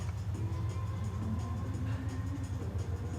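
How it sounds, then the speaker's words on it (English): Car passing outside, a faint low rumble of engine and tyres heard from indoors, steady and distant. "That's a car outside."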